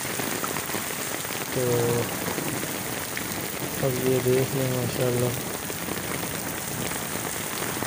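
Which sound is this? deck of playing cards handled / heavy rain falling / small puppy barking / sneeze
heavy rain falling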